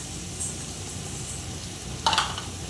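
Curd poured into a pan of fried ginger, garlic and onion: a quiet, steady sizzle with a brief, sharper hissing burst partway through as the liquid hits the hot pan.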